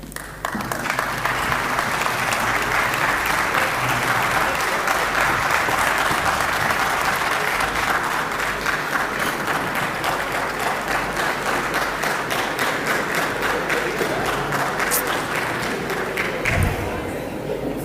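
An audience at a parliamentary or lawmaking session breaks into sustained, dense applause that holds steady for many seconds before tapering slightly at the end.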